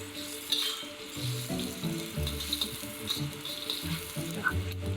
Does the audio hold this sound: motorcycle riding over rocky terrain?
no